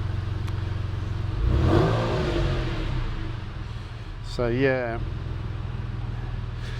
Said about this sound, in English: This car is running so nicely at the moment. Like the idle is so smooth now, and that exhaust